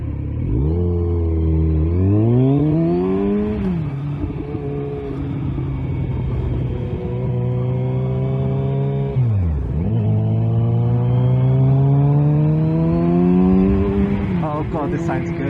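A 2020 Kawasaki Z900RS Cafe motorcycle with Lextek cat-delete downpipes rides along, its engine note climbing and dropping through gear changes in loud, close rising sweeps, with a rider talking over it.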